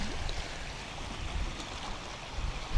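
Cold Arctic Ocean water along an Alaskan shore, a steady soft wash of small waves and lapping water heard as a continuous low rush with a slight swell near the end, no voices.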